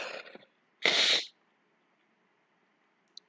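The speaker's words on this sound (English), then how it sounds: "only problem is the sneezing right now" Close up, a person gives one sharp, loud sneeze, preceded by a quick breathy intake and followed by near silence with a faint tick at the end.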